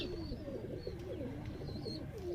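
A Makoya pigeon on a rooftop loft coos in low, soft, repeated rolling phrases, faint and close, with light chirps above and no voices.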